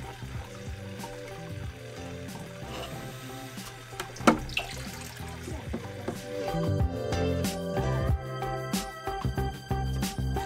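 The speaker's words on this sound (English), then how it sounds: "So now to fill up the tank." Tap water running into an axolotl tank, a close splashing and trickling stream with changing pitch as it fills, punctuated by a few knocks and clatters, no talk.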